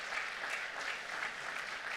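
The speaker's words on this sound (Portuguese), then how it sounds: "nós merecemos uma calorosa salva de palmas" A church congregation gives warm, sustained applause, a dense and even wash of clapping that carries on steadily without talk.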